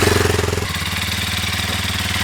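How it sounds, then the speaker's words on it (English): Close, loud Kawasaki KLX 230S dirt motorcycle engine running with a rapid pulsing throb that smooths into a steady idle rumble. "KLX 230S, 300-pound motorcycle."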